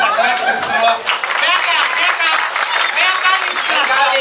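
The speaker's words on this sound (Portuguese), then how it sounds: "Eu quero pedir antes pra entrar uma salva de palmas" Loud clapping from an audience at a welcome runs throughout, with voices calling out and cheering over it.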